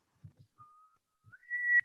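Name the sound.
woman whistling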